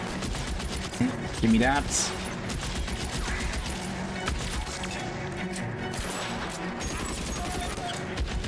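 Enemy gunfire in L.A. Noire, a scattered run of shots and crashing impacts mixed into game sound, with a person talking briefly over the exchange.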